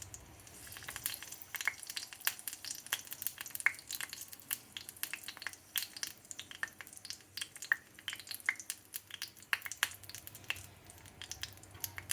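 Garlic sizzles in hot oil in a pan, a steady crackling hiss dotted with sharp pops and spits throughout, close and moderately loud with no talking.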